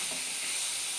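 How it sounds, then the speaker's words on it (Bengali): Pre-fried cauliflower pieces stirred into a pan of spices, giving a dense, even hiss of sizzling oil that fills the whole second at close range. "খুব ভালোভাবে নেড়ে চেড়ে মশলার সাথে কষিয়ে নেব।"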